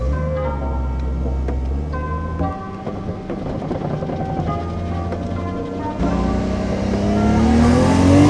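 A Nissan 240SX fitted with a 1JZ engine idles roughly, a steady low exhaust drone with slight unevenness, close and fairly loud, rising a little toward the end.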